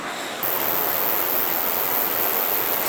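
Water of a small mountain creek and spring in New Zealand bush rushes steadily and close, a dense unbroken wash with no talk over it.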